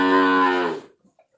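A single loud moo comes from cattle in a pen, sounding close and full, then tailing off into quiet.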